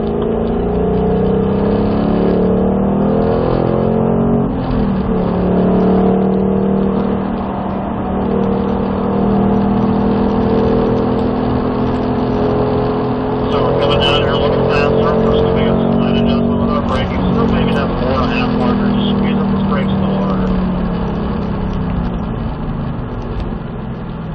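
A car accelerates hard on a race track exit, its engine note climbing and sweeping through gear changes, loud and close throughout, while a driver talks over it.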